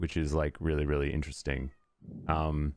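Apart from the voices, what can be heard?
pet cat meowing outside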